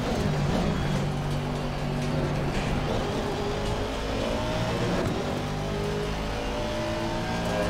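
Race cars in Assetto Corsa Competizione roar around a crowded circuit, engines droning loudly and steadily with shifting revs, faint tire squeal and other cars passing close by.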